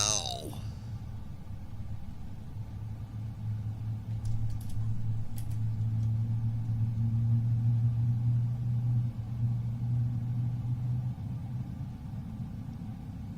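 Airliner engines spooling up in a flight simulator game, a steady low hum that gradually rises and swells in the middle before easing slightly, with faint higher whine and brief clicks, continuous and moderately quiet throughout.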